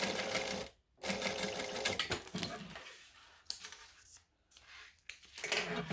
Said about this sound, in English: And then pop it under and top stitch